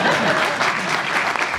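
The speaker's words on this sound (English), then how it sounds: "You can clap." Loud, dense applause from an audience at a WrestleMania 29 press conference fills the whole stretch at an even, sustained level, with no voices rising above it.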